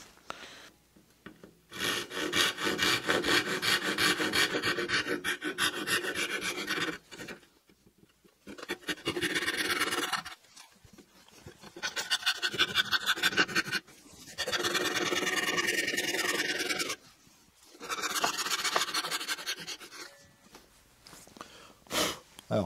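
A trusquin marking gauge scribes tenon cut lines into wood on a workbench build, giving bursts of dry rasping scrapes separated by short pauses, close and fairly loud with no talk over them.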